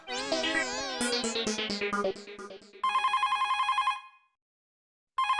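A mobile phone rings loudly indoors during a Taarak Mehta Ka Ooltah Chashmah comedy scene, a warbling melodic ringtone playing in repeated pulses, breaking off, then starting again after a short silence.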